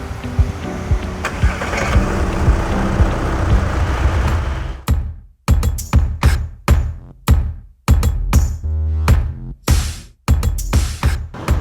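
A car engine in a luxury-car workshop runs loud and steady at first, then breaks into a series of sharp, separated revving bursts with brief silences between them.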